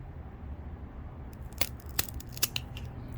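Scissors or pruners snip through a dragonfruit stem cutting in a few sharp, close crunching clicks over a faint background hum.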